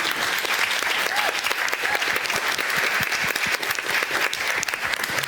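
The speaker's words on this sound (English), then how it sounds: "So a round of applause." Full audience applause in a conference plenary hall, thick overlapping clapping from many people at a strong, steady level, continuous from start to finish.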